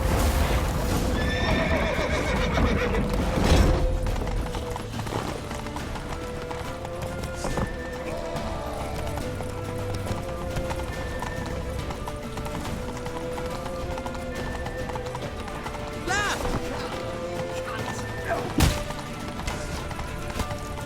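In The Witcher 3: Wild Hunt, a horse gallops with steady clip-clop hoofbeats and lets out a whinny, the hooves drumming close and continuous through the chase with occasional sharp crashes.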